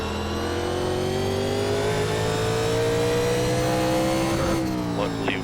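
Stock cars from the 1987 NASCAR Legends set race around Martinsville Speedway in iRacing, a steady loud engine drone holding pitch near and constant, then shifting as a car passes near the end; voices faintly underneath.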